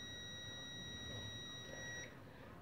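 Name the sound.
multimeter continuity beep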